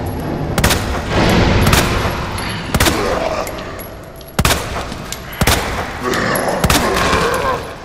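Gunshots in the Resident Evil 2 remake, several sharp, loud single shots spaced a second or two apart with booming tails between them, close and punchy, with someone talking in between.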